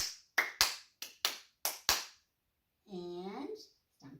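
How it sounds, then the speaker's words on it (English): A group of children clapping hands at a storytime sing-along, seven sharp, loud claps in an uneven rhythm, followed by a short stretch of talk. "clap your hands"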